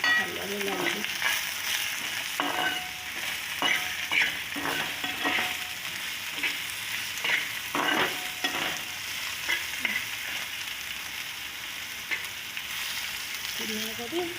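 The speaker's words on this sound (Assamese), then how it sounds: "নিমখ ছটিয়াই দিলোঁ, হালধিও দিলোঁ, দি আৰু ভালদৰে লাৰিলোঁ" A spatula stirs food frying in a pan after salt and turmeric go in: close, repeated scraping strokes over a continuous crackling sizzle, with no voices.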